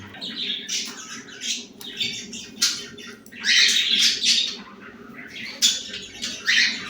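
Several birds squawk and chirp in quick, overlapping bursts, some shrill and nearby, with a steady low background hum and no voices.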